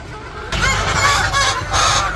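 Backyard hens at a village house, a flock that has been laying eggs, make dense overlapping clucks and squawks. The calls are fairly loud and close, they keep going without a break, and no one speaks.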